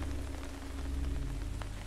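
Cold rain falls steadily in the city of Kasa, a constant close patter on surfaces with a low rumbling undertone and no voices.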